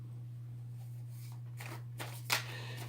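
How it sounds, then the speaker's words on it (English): Oracle cards are shuffled and drawn in a few soft, brief riffles and slides over a low steady hum, close and faint. "I'm going to pull 4 cards from the Akash."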